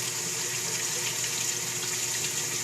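Water pours steadily through a Cetus Sieve open drain, a continuous bright rushing hiss like a running tap, close and even, with no voices.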